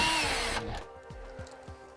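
Power tool spinning out wheel liner screws on a 2012 Cadillac SRX, with a loud whirring burst that cuts off, followed by a few short low knocks and taps.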